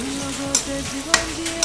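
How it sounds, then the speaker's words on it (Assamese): Meat cooked with curd being stirred in a pan: a steady frying sizzle with scraping strokes of a utensil across the pan and a few sharp knocks, close and loud, with no talking. "অলপ লৰাই দিওঁ মাংসখিনি"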